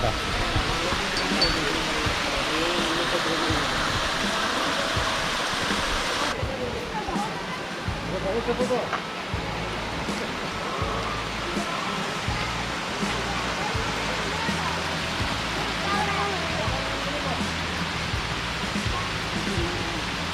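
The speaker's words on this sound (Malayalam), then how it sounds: "അത് ആ ഡാമിൻ്റെ ഷട്ടറിൻ്റെ സൈഡിൽ വരുന്ന വെള്ളമാണ് കേട്ടോ അത് സൈഡിൽ ഒഴുകി കളയാണ്" Rushing water pours continuously in a dense, steady roar as a strong flow spills through the shutter of a small check dam, loud and unbroken throughout.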